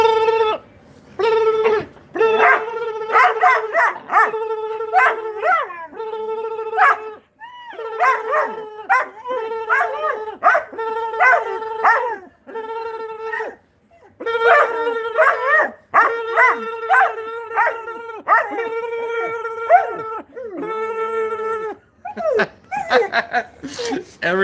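A dog howls along in long, repeated melodic wails with short breaks between them, loud and close, while a person's voice joins in intermittently.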